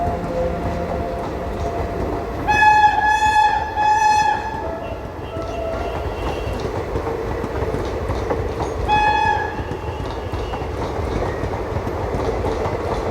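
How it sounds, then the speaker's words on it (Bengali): A WAP-7 electric locomotive hauling the Lalgola train departs Ranaghat Junction station, sounding a loud pulsing horn blast, then a shorter one later, over the low continuous rumble of the moving train. "ট্রেনের কিন্তু হুইসেলের আওয়াজ শুনে মন একেবারে ভরে উঠছে।"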